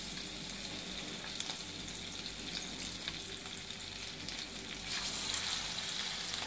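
Fish pieces fry on a hot tava, giving a continuous loud sizzle and crackle of oil close up, slightly intensifying toward the end, with no voices.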